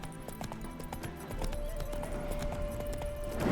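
Geralt's horse Roach in The Witcher 3, spooked by a ghost: hoofbeats clop and shuffle close by with a sustained eerie tone rising beneath, the movement growing busier toward the end.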